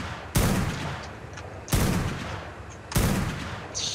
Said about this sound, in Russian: это в меня стреляет